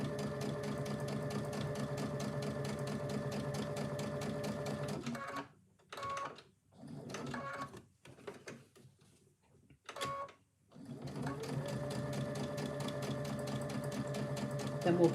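A sewing machine top-stitches a fabric cup cosy, running in a steady close whir, then stopping and starting in short bursts with gaps before running continuously again, with no talk.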